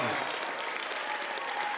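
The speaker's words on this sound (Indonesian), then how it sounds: "kita aplaus dulu Ibu Ketua" An audience applauds a chairwoman of a local journalists' association at a drug-abuse prevention outreach event held at a junior high school in Sengkang. The clapping is a steady, dense patter that fills the room from start to finish.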